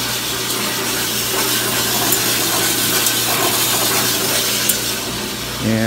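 Bandsaw running through 2.5-inch wood stock in a workshop, a sustained, fairly loud sawing drone with a constant low hum and a few faint clicks, with no voices.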